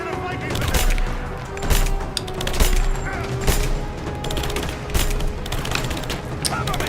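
Gunfire in Rise of the Tomb Raider crackles in dense, continuous volleys of sharp shots and booming impacts, loud and close, with overlapping bursts throughout.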